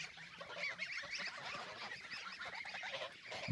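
A flock of geese honking on a farm with a hazelnut orchard in the evening, a continuous, overlapping chatter of calls heard faintly from a little distance, with no talking.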